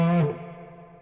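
A guitar note played through a small Wampler reverb pedal rings out strongly, then decays into a smooth, lingering reverb tail over about a second, with no other sounds present.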